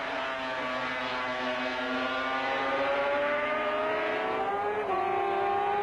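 Vintage Grand Prix racing motorcycles, including a Suzuki square-four, scream past in a steady high-revving engine whine whose pitch slowly shifts, with a quick gear change near the end.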